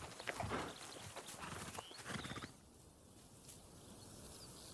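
Horses' hooves clop and scuffle on bare jungle ground with a soft whinny-like sound, busy and close for the first half, then fading into quiet forest ambience.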